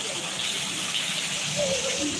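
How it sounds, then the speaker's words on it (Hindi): Heavy rain floods a road in Bariyawan, Ambedkar Nagar, deep enough that bikes cannot run. The result is a steady rushing gush of water, with a voice faintly audible beneath it. "बहुत ही ज़बरदस्त बारिश हो रही है दोस्तों"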